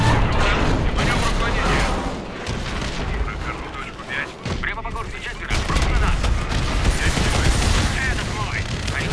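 Dense, loud gunfire and explosions from the video game Call of Duty: Advanced Warfare, continuous bursts and booms with a player's voice occasionally mixed in.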